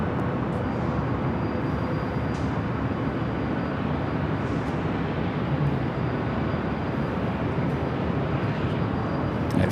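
Jet airliner on Flight 5 to Tokyo Narita rolling toward runway 24 left at LAX, a continuous mid-distance engine rumble, steady and unbroken, with no voices.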